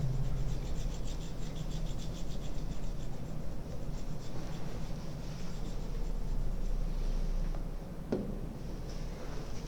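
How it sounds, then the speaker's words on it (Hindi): Handwriting close up, likely pen on paper or board while noting an artery name, a steady scratchy stroking that runs continuously with a brief sharper tap near the end, no voices over it. "अभी मैं लिख देता हूं इसको"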